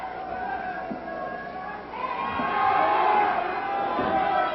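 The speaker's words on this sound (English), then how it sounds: "You hear some war whoops from the crowd every so often" Wrestling arena crowd during a Mike Miller versus Don Running Bear bout, a steady roar of chatter with occasional high whooping cries rising above it, growing louder after the midpoint.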